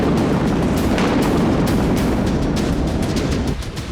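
A gas tanker explodes and burns in Aden, Yemen, a loud, dense, continuous roar with crackling rumble and sharp pops throughout, easing slightly at the end.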